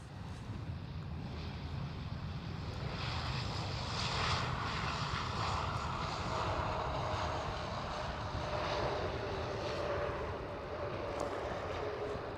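A Ryanair Boeing 737 MAX 8-200 at Amsterdam Schiphol gives off a continuous jet engine roar that swells and holds at moderate distance for several seconds.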